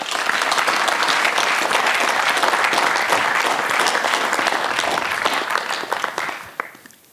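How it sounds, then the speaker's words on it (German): A hall audience gives loud, dense applause that holds steady for several seconds and then fades away at the end. "nun bitte ich um einen kräftigen Applaus"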